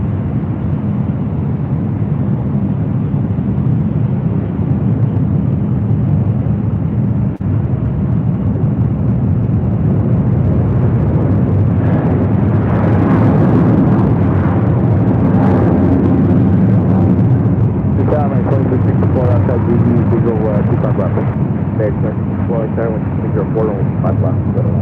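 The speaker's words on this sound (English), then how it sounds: "Next takeoff action on the south side on 25 right." A jet airliner takes off at LAX on runway 25 right, a continuous heavy engine roar heard from a distance that swells and grows rougher midway through the run.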